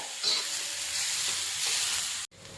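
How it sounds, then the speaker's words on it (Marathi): A steady, close sizzle of onions roasting on a hot iron griddle, a broad crackling hiss that cuts off abruptly near the end. "पूर्ण ब्राऊन होईपर्यंत तव्यामध्ये छान असे भाजून घ्यायचे"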